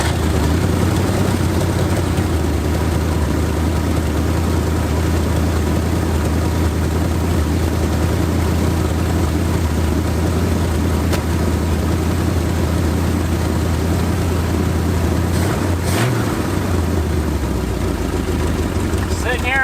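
An old Ford Galaxie's engine idles after sitting parked for five years, a loud, steady, low rumble running throughout with a slight change in pitch near the end, while someone talks over it.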